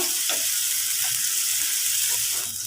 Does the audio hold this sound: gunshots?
no